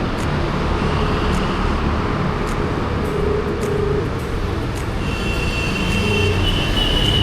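A metro train moves through a Bengaluru metro station, giving a continuous loud rolling roar with brief high wheel squeals and faint traffic noise behind it. Nobody speaks.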